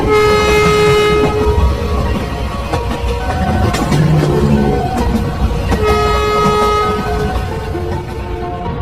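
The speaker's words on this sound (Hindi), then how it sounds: "तभी ट्रेन शुरू हो जाती है।" Cartoon train starting and moving off, a loud, continuous rumble with tonal whistle-like horn tones layered over steady rolling noise throughout.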